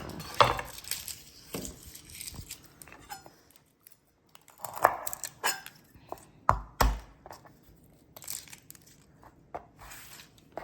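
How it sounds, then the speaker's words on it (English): A cutting board being cleaned off in a home kitchen: bursts of scraping, knocking and light clatter from utensils and a bowl, with quiet gaps between them. "I'm going to clean off the cutting board"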